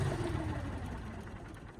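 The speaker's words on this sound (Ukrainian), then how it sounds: "І трактор заглушується." A DongFeng 244DG2 tractor engine rumbles at a low idle, close by, its drone easing slightly toward the end as it shuts off.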